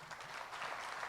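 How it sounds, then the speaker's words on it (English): Audience at the Bangladesh Business Summit 2025 opening applauding visitors who traveled from afar, a steady even wash of clapping heard at a modest distance. "Could we please have a round of applause for them?"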